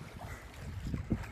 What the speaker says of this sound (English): hiding from the wind